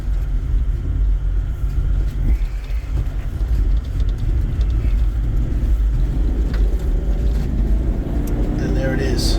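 A four-wheel drive grinds up a steep, loose-surfaced track in the Wonnangatta Valley, its engine a steady heavy rumble with tyres scrabbling for traction, close and continuous while someone talks over it.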